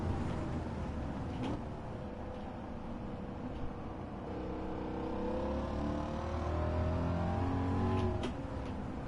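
Engine of a car in Gran Turismo revving toward an 8250 rpm redline, a sustained whine climbing steadily in pitch, then a brief shift blip and a renewed climb.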